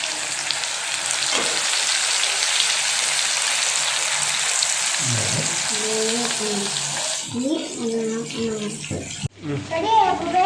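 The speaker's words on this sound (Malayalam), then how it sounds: "വറുത്ത് പോവുകയാണ്" Chicken lollipops deep frying in hot oil give a loud, steady sizzling crackle that fills the scene, and a voice talks over the later part.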